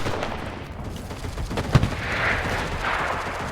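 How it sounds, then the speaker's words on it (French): Gunfire in the World War II shooter Enlisted, with a machine gun firing from an enemy bunker: one sharp nearby shot stands out over a rumbling, distant battle din, and no one talks. "Et leur giga mitrailleuse, comme dit le nom, elle nous mitraille quoi"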